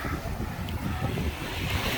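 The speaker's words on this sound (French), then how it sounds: "c'est une plage qui est très calme, paisible, avec des petites vagues et toujours les cocotiers derrière" Small, gentle waves wash steadily onto a calm Martinique beach backed by coconut palms, a soft continuous surf hiss with light wind over the microphone.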